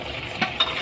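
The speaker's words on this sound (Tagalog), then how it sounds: "haluin na natin yan" Pork sisig is stirred in a hot pan, with a steady sizzle and two brief scraping strokes of a utensil, close by and without talk.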